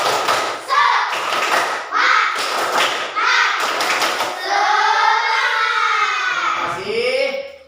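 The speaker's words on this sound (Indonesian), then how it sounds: "Tepuk semangat" Classroom group performs a rhythmic 'tepuk semangat' spirit clap, sharp patterned bursts of hand claps in quick clusters, mixed with children's chanted voices and a rising shout toward the end.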